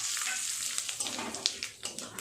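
A bay leaf and half a spoon of cumin seeds frying in hot oil, a close hissing sizzle with quick popping crackles that grow more spaced toward the end, no speech.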